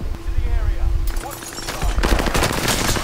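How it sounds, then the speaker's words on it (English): Rocket launcher fire in the video game Call of Duty Warzone: a loud burst and explosive gunfire erupt about a second in, with continuous game noise and a player talking underneath. "I'm about to launch someone. Hit someone with a rocket here."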